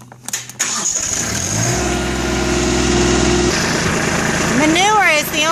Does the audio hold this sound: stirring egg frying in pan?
no